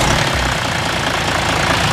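A Ford F250 with an MWM six-cylinder diesel idles up close, a loud, steady and even rumble that fills the whole short stretch.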